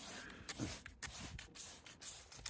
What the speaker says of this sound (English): I'm just going to spray it into the dirt film